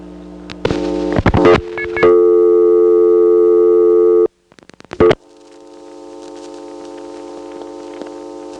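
Telephone line tones from 1977 electromechanical switch selectors while calling 411: clicks and relay chatter, a steady loud hum-like tone that cuts off, more clicking, then a long low humming line noise building gradually.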